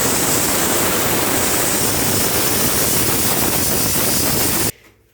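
Pressure cooker holding dal curry releasing steam, a loud, sustained hissing whistle close by that cuts off abruptly near the end.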